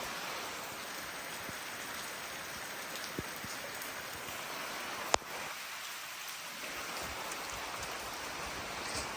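Heavy rain from a rainstorm hisses without a break as a dense, even wash of drops on surfaces, with one sharp knock partway through.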